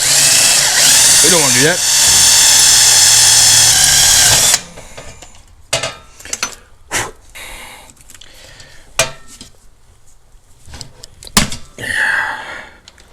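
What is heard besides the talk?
fastening tubing with 1/4 inch rivets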